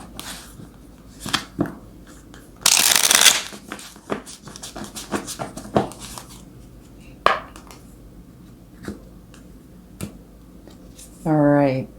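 Tarot cards are shuffled and handled in a run of sharp, scattered riffles and snaps with quiet gaps between them, including one longer burst of flicking. A voice is heard briefly near the end.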